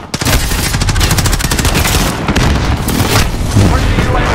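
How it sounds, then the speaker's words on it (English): Loud, dense barrage of precision airstrike explosions and gunfire in Call of Duty: Modern Warfare multiplayer, continuous booming blasts with rapid cracks layered throughout, voices faintly mixed in. "Be advised, friendly precision airstrike"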